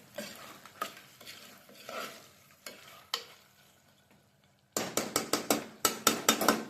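Biryani is being mixed in a pot after lemon juice is squeezed in, giving irregular scraping stirs and clinks of a spoon against the vessel, quiet at first and then a brisk, louder run of strokes.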